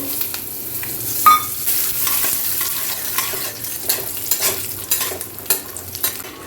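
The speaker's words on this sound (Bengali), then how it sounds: "অল্প একটু তেলে আমি বাদামটাকে ভেজে নেব" Peanuts fry in a small amount of oil for a Bengali bhog khichuri, giving a soft continuous sizzle broken by irregular scraping and clinking as they are stirred around the pan.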